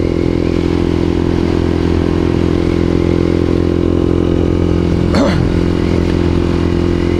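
A motorcycle engine runs steadily throughout, a close, even mechanical drone with a brief clattering sweep near the end, on a sunny day after the snow melt.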